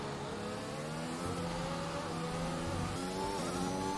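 An F1 race car engine in the F1 2021 game at the USA Grand Prix, a high, whining onboard roar rising and shifting pitch through the gears, steady and close with no talk.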